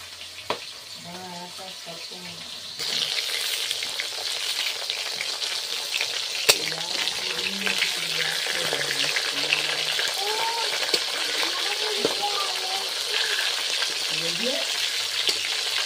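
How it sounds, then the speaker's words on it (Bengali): Fish sizzling steadily in hot oil in an open pan, a loud continuous crackle that swells after a few seconds and runs throughout, with someone talking over it at intervals. "মাছগুলো ভাজা হয়ে গিয়েছে, এবার তুলে নিচ্ছি।"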